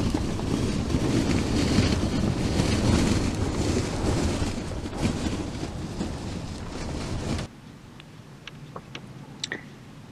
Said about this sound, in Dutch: Het waait.